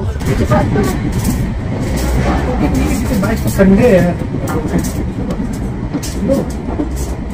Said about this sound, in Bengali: আর এই ট্রেনটা যায় নর্থ বেঙ্গলে রাধিকাপুর